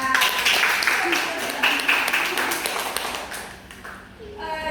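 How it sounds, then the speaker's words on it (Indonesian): Students clap for a classmate in a classroom during a religious education micro-teaching lesson, a short burst of scattered hand claps that thins out and fades, followed by faint noise. "Ya, beri aplaus untuk Sila."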